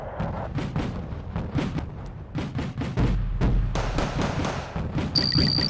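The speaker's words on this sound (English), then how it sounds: "North Korean artillery coming from the woods." North Korean artillery fire in the Wargame: Red Dragon video game lands as a rapid, irregular barrage of heavy booms and thuds, overlapping densely with a deep rumble, and a thin electronic tone appears at the end.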